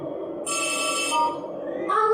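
A telephone in the video game Poppy Playtime rings with a bright electronic trill, loud and close, starting mid-clip and changing tone near the end.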